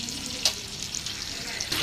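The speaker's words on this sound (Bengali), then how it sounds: "এই যে আমার কই মাছটা ওই পিঠ ভাজা হয়ে গেছে, এখন উল্টিয়ে নিব।" Koi fish frying in a pan of oil produces a continuous loud sizzle with a couple of sharper crackling spikes, close and steady, with no talking.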